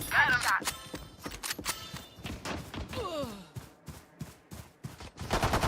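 Gunfire in a Valorant match crackles in sharp, rapid bursts of shots and thuds, close and loud, with a player talking briefly between volleys.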